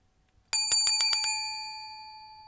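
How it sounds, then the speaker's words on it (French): A bicycle-style bell rings in a rapid burst of six bright strikes, loud and close, then rings out and slowly decays. "vous pourrez entendre ce bruit de cloche."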